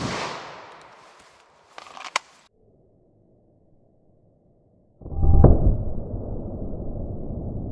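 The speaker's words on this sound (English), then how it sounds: "Let's see what we get with our 9mm plus P plus Nosler bullet here." A 9mm +P round with a Nosler bullet fires into a ballistic test target: a sharp crack, a quiet stretch, then a louder, broader blast that rings out and fades slowly.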